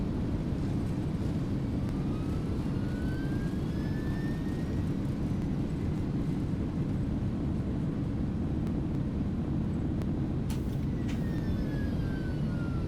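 Thrust reversers on an A300 airliner roar steadily through a landing rollout in a flight simulator, a loud, continuous broadband rumble lasting throughout, with a few faint tonal whines rising above it.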